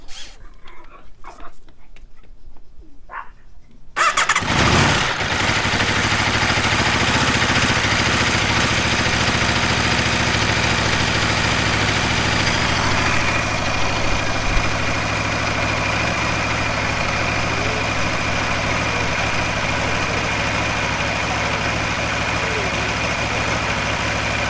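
An Aprilia RSV4 motorcycle on a workstand with its fairings off fires up after a few seconds of quiet handling noises, then settles into a steady, loud idle that drones on close by with no talk.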